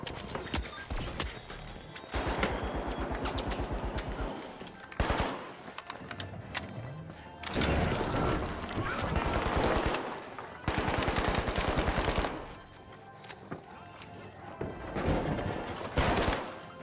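A turret in a video game fires long bursts of rapid gunfire, loud and close, broken by short pauses between bursts and layered with other game noise.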